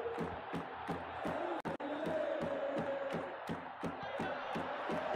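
Stadium crowd noise in a football video game, a steady roaring murmur with rhythmic chant-like pulses and a brief dropout, fairly quiet overall.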